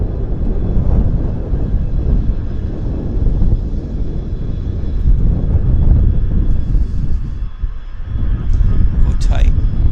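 Aircraft taking off at Vancouver Airport in strong winds, a heavy continuous engine roar buffeted by wind rumble, with a higher whine emerging near the end.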